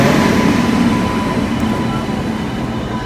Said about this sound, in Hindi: प्लेटफॉर्म नंबर 5 पर आ रही है अमृतसर हरिद्वार अमृतसर जनशताब्दी एक्सप्रेस।